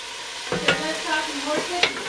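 Jambalaya cooks in a pot, with a spoon scraping and stirring through a soft sizzle, a couple of brief knocks against the pot, close and fairly brief.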